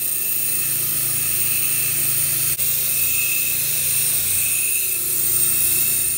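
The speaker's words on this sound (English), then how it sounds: "this is a low power wire wheel" A low-power wire wheel scrubs gunk out of the grooves of a kitchen sink, giving a continuous close whirring and scratching hiss with one momentary dip partway through.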